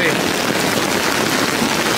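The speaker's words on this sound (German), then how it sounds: "Der Regen muss weg, das ist richtiger Starkregen mit ganz viel Blitzen und sowas." Heavy thunderstorm downpour lashing a bivouac spot, a steady dense roar of rain drumming without pause throughout, loud and close, with no distinct thunderclap standing out.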